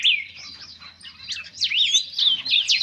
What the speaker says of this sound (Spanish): Estos son los pájaros del jaulón este y la pajarera.